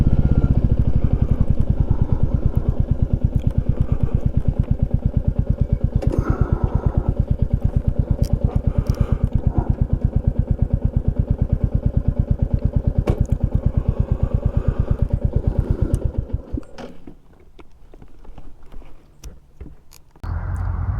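A Royal Enfield Classic 350 motorcycle engine runs up close with a steady, even thumping idle, then shuts off near the end, leaving faint handling noises.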